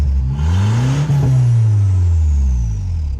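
Miniature turbocharged Hemi engine revving hard near 6,000 RPM, a loud close steady drone whose pitch climbs, peaks, then slowly sags as the revs fall, with a faint high whine above.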